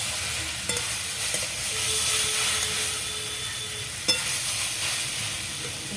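Vegetables stirred in a frying pan with taro being fried, a steady loud sizzle with a few soft scraping clicks of the spoon against the pan, no talking.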